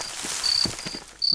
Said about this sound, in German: Oh, die lauten Grillengeräusche.